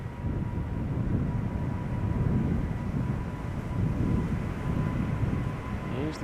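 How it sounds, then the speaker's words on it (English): A Boeing 777 freighter airliner at an airport rolls with a steady, loud broadband engine roar that holds throughout, with a faint steady tone above it and no talk. "it's a 777 freighter, the B2010"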